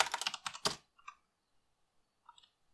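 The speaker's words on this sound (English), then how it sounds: "I'm going to type in email from Thunderbird." Quick bursts of keystrokes on a computer keyboard while writing an email on a Raspberry Pi mail server, a dense flurry of clicks for under a second, then a few scattered soft taps with near silence between.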